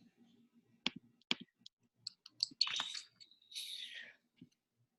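A few sparse, quiet clicks from a computer keyboard, with soft breathy vocal sounds in between in a quiet room.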